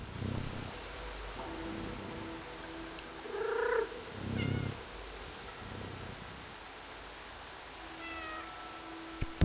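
Cats in the video game Stray meow a few times, mid-distance and moderately loud, with a couple of drawn-out cries over a soft steady hiss of game ambience.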